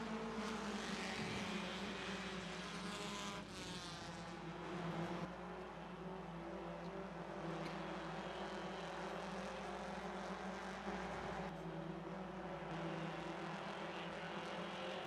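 Stock race cars lapping South Boston Speedway, a continuous droning roar of engines at a distance with pitch sweeping as the pack passes, no talk.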